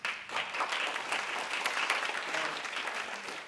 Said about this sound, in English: Please applaud to her left, Toko MIURA